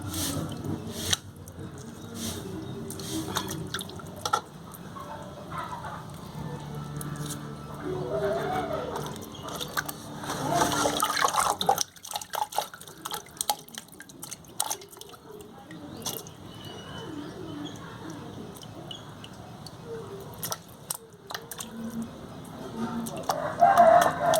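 Soaked dried fish is rinsed and swished by hand in water, with intermittent sloshing and dripping while a person talks and a rooster crows and clucks in the background.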